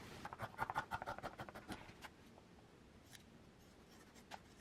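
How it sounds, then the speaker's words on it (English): Scissors trim fabric seams on a sewn collar and facing, giving a quick run of close, crisp snips that slow and fade into quiet room tone. "Let's go ahead and trim our seams"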